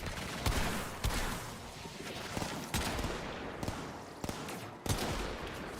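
Gunshots in the video game Warframe ring out as separate sharp cracks, about seven or eight spaced irregularly over a low background rumble, fairly close, with no talk.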